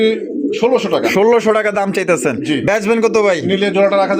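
A pair of colouring golla pigeons, one red and one black, coo at a pigeon sale, their soft repeated calls mixed under close, continuous talking by a man.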